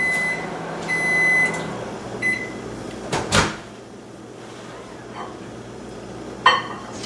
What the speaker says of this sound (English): You can either melt it down in the microwave or in a pan